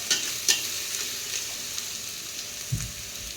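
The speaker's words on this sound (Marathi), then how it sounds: "परतवून घ्यायचं आहे अद्रक लसणाचा कच्चापणा आपण घालून घ्यायचा आहे" Ginger-garlic paste sautéing in a pan for chicken biryani, a steady hiss of frying with a few spatula knocks and one dull thump near the end, close and moderately loud, no talking.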